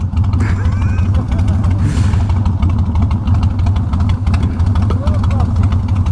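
Kawasaki Vulcan 1500 Drifter motorcycle pulling up alongside, its engine a steady low idling rumble heard close and loud over road and wind noise, with no clear talk.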